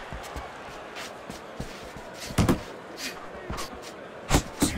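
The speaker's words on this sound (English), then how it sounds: "Volume punching to the body there." Punches thud to the body in a Fight Night Champion boxing match between Little Mac and Mike Tyson, with scattered dull impacts, a couple of sharper hits, under steady commentary.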